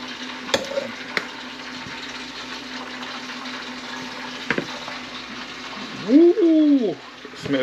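Chicken wings deep fry in hot oil, a steady crackling sizzle running throughout, with a few sharp knocks and a loud whooshing burst near the end as someone talks over it.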